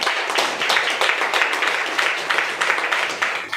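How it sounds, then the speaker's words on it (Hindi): An audience applauds at a DXN gathering, many people clapping together in a lively, slightly uneven rhythm that swells and dips, moderately loud and sustained throughout. "जोरदार तालियां, जबरदस्त तालियां"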